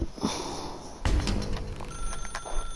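Office telephone ringing in The Stanley Parable, a bright electronic ring with repeated tonal pulses after a dull thump, moderately loud and close, without talk.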